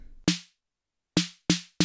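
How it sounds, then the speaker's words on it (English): A simple 808-style snare synthesized on a Maschine drum synth hits four times, each a sharp, crisp crack with a short decaying noisy tail, the hits alone in silence and unevenly spaced. "So like a really simple snare drum,"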